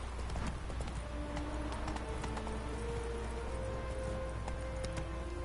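Roach, the horse in the video game The Witcher 3, gallops in a steady rapid clip-clop of hooves that runs throughout over a constant game background bed, with no voices.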